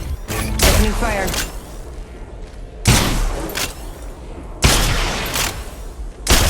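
Gunfire bursts in the Apex Legends Mobile shooter game, including a PK shotgun, three loud sudden blasts with echoing tails spaced a couple of seconds apart, mixed with game voice callouts.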